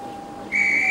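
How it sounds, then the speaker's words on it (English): A railway guard's whistle sounds a single sharp, shrill, steady tone that cuts in abruptly and holds loud and close after a quieter, fainter tone beforehand. "The guard's whistle blew."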